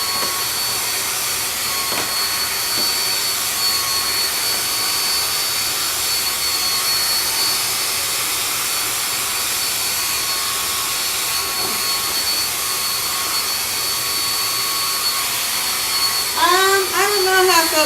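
A hair dryer blows on natural hair with a steady loud whooshing roar, near and unbroken, rising with a few extra whirring sweeps near the end.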